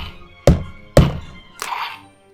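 Three hard smacks land on a Hasbro Interactech Stormtrooper action figure, two sharp thunks close together and a softer third hit, each with a short rattling decay, with no talking.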